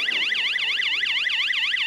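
An ambulance siren wails in a steady, rapid up-and-down sweep, loud and close, with nothing else audible.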